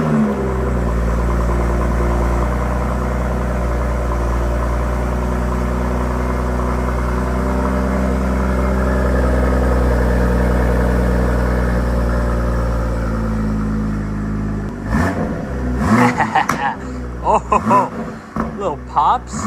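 A BMW M240i in the Roblox video game gives a steady, loud engine drone with layered harmonics for about fifteen seconds, then breaks into choppy bursts and popping near the end.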